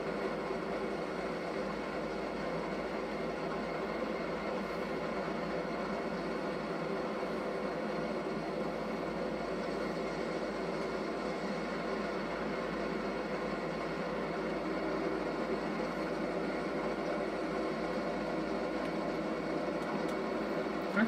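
A train rolls along in a video game set in Dickenson County, Virginia, with a constant, dense rumble and hiss that does not change for the whole stretch, with no voices over it.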